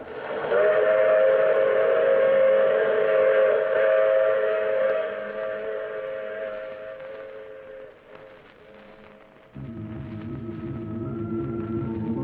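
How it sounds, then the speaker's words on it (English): A train sound effect in a radio drama: a steady, loud steam-style whistle sounds for several seconds and fades, followed by low rumbling rail noise of the moving train. "I take this same train every week at this same time."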